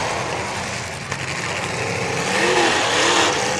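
A demolition derby car's engine runs in neutral at the track, a steady mid-pitched rumble that swells slightly as it revs, loud and close with no talk.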